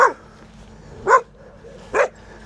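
A dog barks three times in short, loud bursts spaced about a second apart, outdoors on a hillside ridge walk with steady wind in the background.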